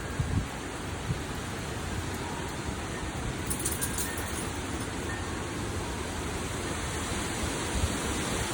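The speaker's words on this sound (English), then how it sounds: "There's a nice gust." A wind gust from Tropical Storm Zeda in western North Carolina makes a continuous, loud, broadband roar that holds steady throughout with slight surges.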